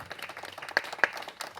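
Wedding guests give the sponsors a short burst of scattered applause, with a few sharp claps standing out close by.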